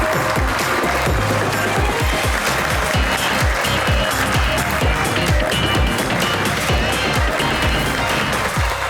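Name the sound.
studio audience applause welcoming guests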